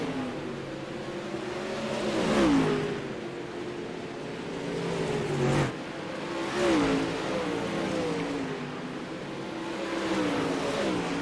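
Pro late model race cars at Eldora Speedway roar around the dirt track, engines rising and falling in repeated waves as cars pass, a steady loud drone with several swelling peaks and no talk.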